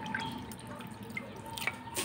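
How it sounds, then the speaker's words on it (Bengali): Meat being rinsed by hand in water, dripping and splashing steadily at close range with a few brighter splashes, no voices. "এখান থেকে আমি ধুয়ে ধুয়ে মাংসগুলো তুলে নেব।"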